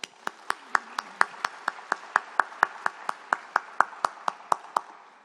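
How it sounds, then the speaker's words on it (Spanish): A single person clapping slowly and steadily, about twenty sharp, evenly spaced claps close by, welcoming a brigade volunteer at a citizen event with the president of Ecuador. "Fuerte el aplauso para ella."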